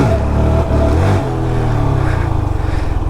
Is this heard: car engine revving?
yes